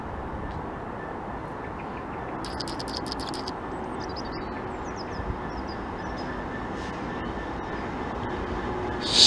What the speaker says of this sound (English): there's a special train due through here